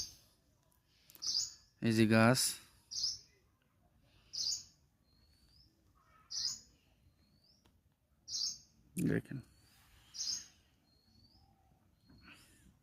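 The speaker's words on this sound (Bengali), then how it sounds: "পাখির ডাক" Birds in the Sundarbans mangrove forest give short, repeated whistled calls about every second or two, some with a rising slur, set against quiet forest air, while someone speaks briefly twice in between.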